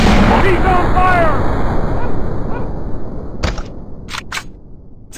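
Heavy booms and sharp gunfire bursts from the Commando Strike shooting game, a rumbling explosion fading out followed by a few crisp separate shots, with voices under the din.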